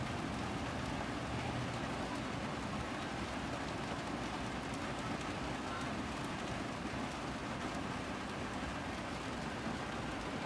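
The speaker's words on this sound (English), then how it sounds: "Here comes the rain" Steady rain falling outdoors, a dense, even hiss of drops that holds constant throughout without pause, moderately loud and enveloping.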